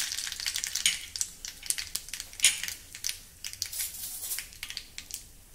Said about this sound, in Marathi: तेल गरम झालं की त्यामध्ये थोडी मोहरी घालूया. चिमूटभर हिंग, सुक्या लाल मिरची